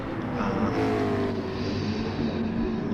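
A Mustang race car and rival engines roar in a sim racing league race, a continuous layered drone of revving motors at steady loudness.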